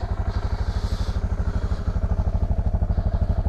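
A Suzuki DR650 single-cylinder motorcycle engine idles nearby with a steady, rapid thumping pulse, loud and alone without talk.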